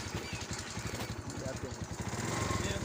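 A motorcycle being ridden, with a steady, rapid engine putter close by and pulsing evenly under wind noise, loudening slightly toward the end.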